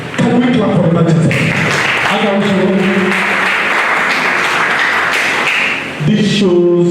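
An audience at a two-day pre-retirement workshop claps for about five seconds, a dense steady burst of applause, with a speaking voice just before and after it.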